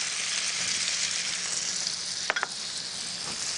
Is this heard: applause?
no